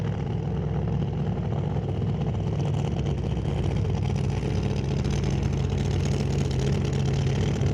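A nostalgia funny car idles at the drag strip with a loud, rough, steady low rumble and a faint fluctuating tone, continuous throughout.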